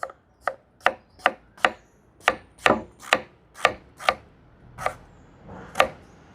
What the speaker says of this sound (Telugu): మళ్ళీ ఇటువైపు తిప్పేసి ఇప్పుడు సన్నటి పొడవుగా ఉండే ముక్కల్లాగా కట్ చేసుకుందాం